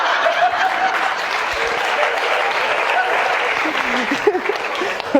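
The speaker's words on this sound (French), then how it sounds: "vous applaudissez à ça" A crowd at a stand-up comedy show in France applauds, a sustained wash of clapping with a few chuckles and murmurs mixed in, fairly loud throughout.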